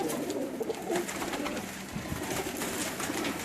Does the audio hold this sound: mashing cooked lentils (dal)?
no